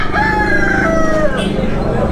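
A rooster crows close by at a busy bird market selling fighting cocks and other poultry, one long, loud, wavering cock-a-doodle-doo over a dense background of market noise.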